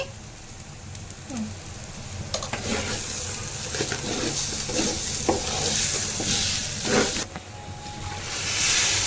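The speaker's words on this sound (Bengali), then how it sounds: "ভাজতে হবে চালটাকে সুন্দর করে, যাতে লেগে লেগে না যায়।" Rice for a Haji-style biryani frying in a pot, a steady sizzle with repeated scraping stir strokes throughout, fairly close and moderately loud, with no talking.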